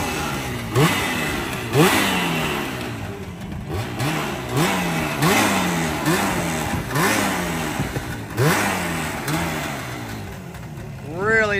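An old Kawasaki GPZ motorcycle engine is blipped again and again, each rev climbing sharply and dropping back to idle in a loud, close, rhythmic series.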